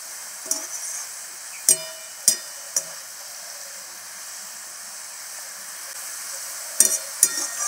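Shredded potatoes fry in hot oil with a steady, quiet hiss, broken by a few sharp pops and crackles scattered through the clip.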